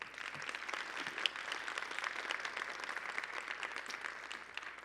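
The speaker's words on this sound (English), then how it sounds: "let's just give Dr. De Niz another round of applause." An audience at a diversity, equity and inclusion award presentation applauds Dr. De Niz, with steady, dense clapping from many hands that holds at an even level throughout.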